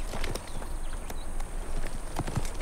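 Horse hooves clip-clopping at a walk beside a river, a steady series of sharp hoof strikes heard fairly close over a low background rumble.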